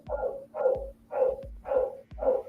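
A dog barks five times in a steady rhythm, each bark full and fairly close, with short pauses between them and no talking.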